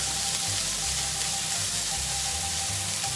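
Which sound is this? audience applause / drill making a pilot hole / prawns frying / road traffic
prawns frying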